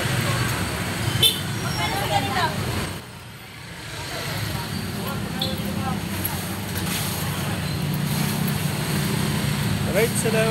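Night street traffic near the Dangwa flower market in Manila rumbles steadily, with passing vehicles, engine drone and scattered horn toots, while someone talks over it.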